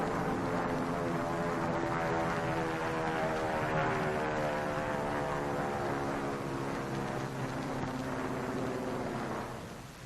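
A drone airplane flies over a target fleet in 1948 Atomic bomb test footage, its propeller engine droning steadily with a continuous tonal hum over a broad hiss, holding loud and then fading slightly at the end.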